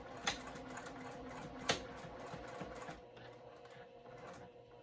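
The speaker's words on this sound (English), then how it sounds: "Now let's do top stitching." A domestic sewing machine runs a line of top stitching, giving a steady, fairly faint mechanical whir with a couple of sharp clicks, then easing to a quieter hum partway through. No one speaks.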